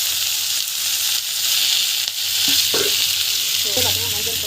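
Masala of tomato, turmeric and chili powder sautés in a pan, a steady close sizzle and frying hiss with a few stirring scrapes toward the end.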